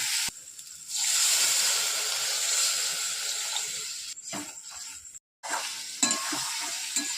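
Potatoes sautéing in a pan for a spiced potato curry, a steady loud sizzle and hiss with intermittent scraping stirs, one brief dropout near the end, then the frying resumes.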